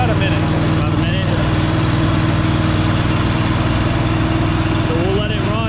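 A pull-started landscaping engine being run during winterizing, idling steadily and loudly up close with a constant rough, buzzing drone for the whole stretch, while people talk underneath.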